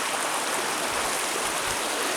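River water rushing steadily during a river crossing on an overnight hike in the peaks, a dense continuous wash of flowing water close by with no talk.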